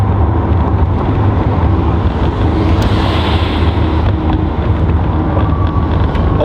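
A Lamborghini Revuelto firing up its engine after running in electric mode, a steady deep rumbling roar that fills the cabin, loud and constant with rushing wind-like noise on top.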